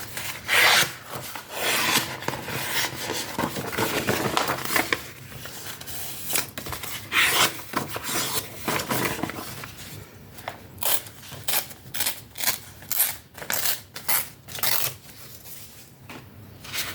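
Scissors snip through glossy magazine paper for a collage, a close run of dry rasping cuts and paper rustles, steady at first and then breaking into short separate snips with small pauses between them.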